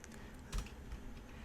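Soft, quick keystrokes on a computer keyboard tap faintly beside a low room hum, with one slightly louder key press and no speech.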